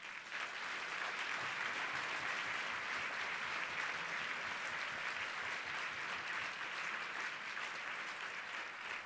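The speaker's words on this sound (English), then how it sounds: "I'm not standing here to get lots of applause." An audience at a mental-health stigma awareness event gives sustained applause after a speech. Even, dense clapping holds at a steady level for about nine seconds with no voices over it.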